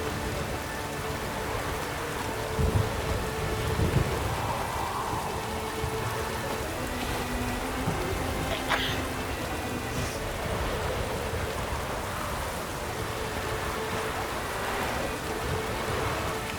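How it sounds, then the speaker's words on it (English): A rainstorm in The Witcher 3: Blood and Wine, with steady heavy rain hissing throughout and a faint low rumble of thunder in the background. "The storm, damn it."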